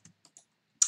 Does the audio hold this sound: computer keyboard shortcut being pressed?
yes